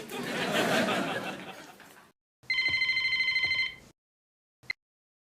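After a burst of noisy background sound, a telephone rings with a steady electronic trill for about a second and a half, then a short final chirp.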